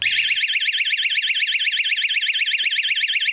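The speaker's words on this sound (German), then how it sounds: "Dann geht nämlich der Alarm los." A doorbell step mat with a built-in alarm sounds a loud, continuous electronic alarm tone in rapid pulsing beeps, steady and close throughout.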